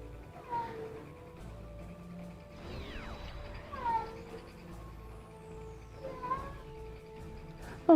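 A cat meows several times, with short, rising and falling cries spaced a few seconds apart, close by in a quiet indoor room.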